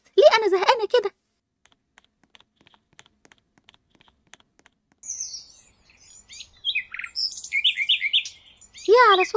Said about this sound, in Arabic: يا على صوت زقزقة العصافير